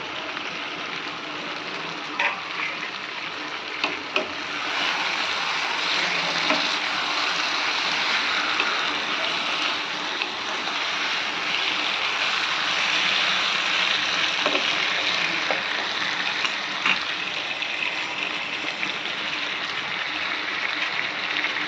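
Yogurt-marinated chicken fries in a pan over low heat, giving a continuous loud sizzle with occasional faint scrapes and clicks and no talking.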